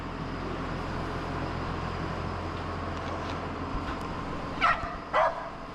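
A dog on a farm gives two short barks near the end, after a long stretch of steady outdoor background noise; no talking is heard.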